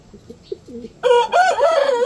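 On a backyard poultry setup with hens, a few soft low clucks come first, then a rooster crows loudly and close by in one long, wavering call.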